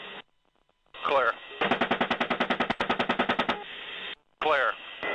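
Bursts of rapid automatic machine-gun fire in combat, loud and close, rattling in sustained rhythmic volleys separated by short pauses, with radio-like voices talking between the bursts.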